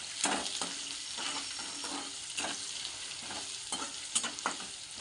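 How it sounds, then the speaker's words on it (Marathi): Peanuts, onion and cumin frying in a pan, a steady close sizzle broken by repeated scraping stirs of a utensil against the pan throughout. "आताच कांदा टाकते मी आता अजून जरा शेंगदाणे फ्राय होतील"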